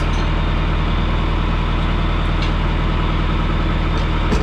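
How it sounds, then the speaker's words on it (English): A farm tractor idles at close range while irrigation pipe machinery is being unhooked, a steady, loud, even engine rumble with no change in pace and no voices. "Go ahead and shut down the tractor."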